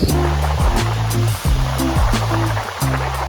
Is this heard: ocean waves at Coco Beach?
yes